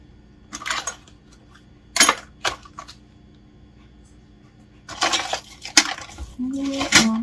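A teaspoon scoops dark-roast espresso coffee grounds for a single cold brew, giving short metallic scrapes and clinks in a few separate bursts, with a clustered run of scooping near the end.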